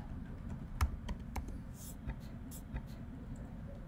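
Light, scattered keystrokes tap on a computer keyboard as a web address is entered, soft and close against a low steady hum.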